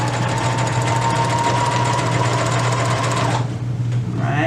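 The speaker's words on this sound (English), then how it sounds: "make sure you're still sewing just the outer layers" A sewing machine stitches the outer fabric layers of a handmade beanie, running slowly. The motor whirs loud and continuous with a rapid needle chatter for about three seconds, then stops abruptly.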